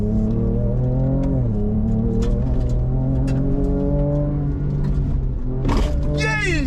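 An all-new Ford Ranger Raptor's engine revs and rumbles steadily during an off-road run, with rising harmonic tones as the throttle climbs, then a sharp surge near the end; voices are heard faintly over the engine.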